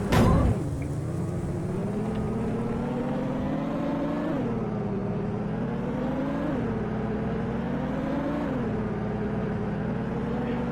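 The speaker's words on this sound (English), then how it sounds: "It might have been something in the car engine I was hearing there." Car engine in the Storm Chasers video game, a steady loud droning rumble lasting throughout with gentle rises and falls in pitch as it revs, after a brief louder burst at the start.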